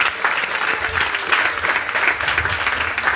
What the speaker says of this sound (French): Il faut aussi applaudir vos projets.